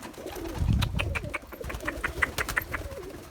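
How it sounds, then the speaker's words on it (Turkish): Pigeons just released and taking flight after feeding on purslane, giving soft cooing and scattered wing flutters and clicks at close range, with a brief low thump early on and no talking. "Kuşlara da yeni saldım. Yeni havalanıyorlar."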